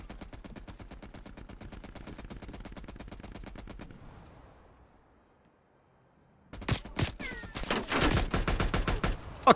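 Turret gunfire in Call of Duty: Cold War: a long, steady stream of rapid automatic shots fades into quiet, then heavy, louder irregular bursts of fire break out close by.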